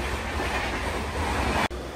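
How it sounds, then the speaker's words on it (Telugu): An express train crosses at Chagallu station with a loud, continuous rumble of rolling wheels, heard close by from a halted passenger train, with no talking. "ఇప్పుడు క్రాస్ అయింది చూడండి"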